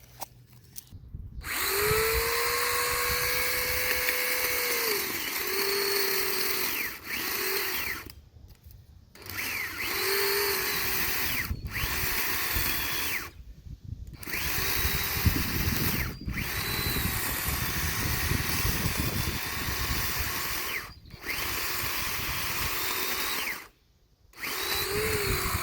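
A Sunjoe 12-inch electric chainsaw cuts through wood outdoors, its steady loud motor whine running in long bursts broken by several short pauses between cuts, with no talk.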